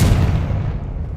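A Confringo blasting spell detonates in the Hogwarts Legacy video game, a loud, dense boom whose low rumble and crackle sustain evenly through the short moment with no talk over it.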